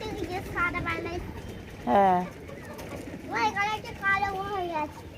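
Pigeons coo in several low, warbling calls, close by, while children chatter and call out in the background.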